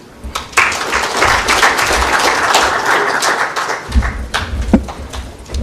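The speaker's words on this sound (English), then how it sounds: "Maybe you can give him another round of applause." Audience applause after a political speech, a loud burst of many hands that rises sharply and stays dense, with some heavier close claps and low thumps near the end.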